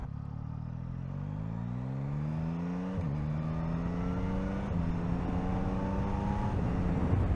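A 2024 Yamaha MT-09 motorcycle with an inline engine heard while riding, climbing steadily through the gears with rising whine, brief dips at each shift, and constant wind noise underneath.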